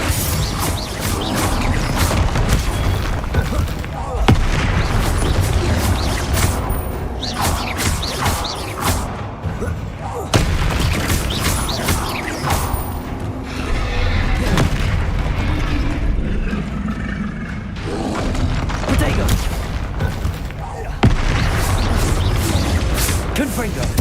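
Confringo blasting spells from the video game Hogwarts Legacy burst in repeated loud booms and crashes throughout a long battle, dense and close. Voices speak at intervals among the explosions.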